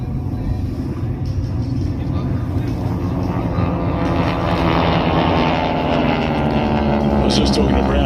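Piston warbird aircraft diving in for a Z loop at the Warbirds Over Wanaka air show, a steady loud engine rumble and drone that swells slightly toward the end, with a commentator talking over it.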